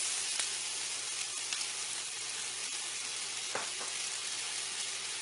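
Chopped onion frying in half butter, half cooking oil in a pan, a soft steady sizzle with faint crackles and an occasional stir, close and quiet with no voices.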